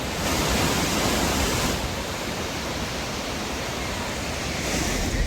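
Steady, full roar of a waterfall in Stowe, Vermont, rushing water filling the whole clip at constant loudness with a soft, wind-like wash and no voices.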